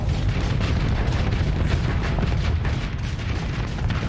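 Booming explosions from a torpedo strike in the Starsector space battle game, a dense continuous rumble of blasts with heavy low end, loud throughout with no pauses.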